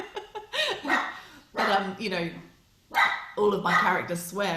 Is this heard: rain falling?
no